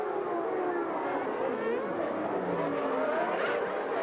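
Formula One cars set out on the opening lap of a 1991 race, their engines a sustained high-pitched whine with rising and falling pitch, heard at a distance as a continuous roar.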